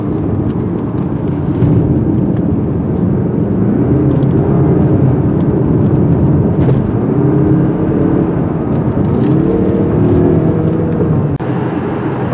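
A 2023 Mazda CX-30 Turbo Premium in sport mode drives quickly, its engine hum and road noise steady and close throughout, with rising and falling revving tones as it accelerates and takes corners.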